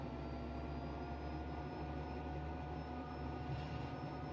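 Eurofighter Typhoon jet engine running at slight throttle in a flight simulator, a steady, even drone with constant tonal whine and no breaks, close and moderately loud throughout.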